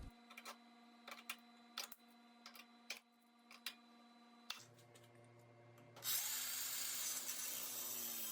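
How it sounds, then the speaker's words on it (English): In a garage workshop, scattered ticks and clicks give way to the sudden loud, harsh hiss of an angle grinder cutting off the excess end of a steel carriage bolt near the end. "I can cut off the excess with a grinder"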